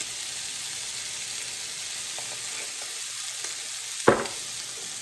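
Garlic, pepper and seasoning frying in a pan give a steady, even sizzle that runs throughout, with one brief louder clatter near the end, probably from a utensil stirring the pan.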